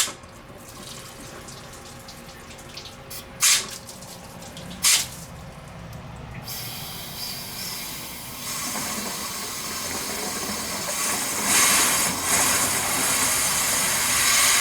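Compressed air blown down the heater hose of a 2007 Dodge Ram with the 5.7 HEMI during a water pump job, forcing coolant water out of the engine: a few sharp bursts, then a continuous rushing hiss and splashing flow.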